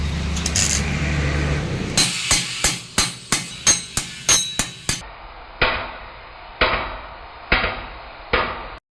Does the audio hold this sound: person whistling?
no